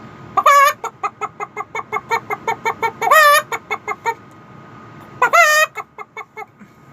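Mimicking a hen after laying an egg, a voice gives rapid rhythmic clucks in repeated runs, each run peaking in a drawn-out loud squawk, close and unaccompanied by speech.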